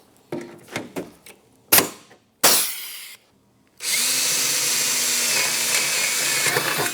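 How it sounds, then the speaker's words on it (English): After a few clatters and short handling knocks, a power drill starts up and runs steadily and loudly, boring holes for aluminum rivets in a snowmobile belly pan and tunnel extension on a Yamaha Enticer 540 long-track build. "Now I got to do some drilling."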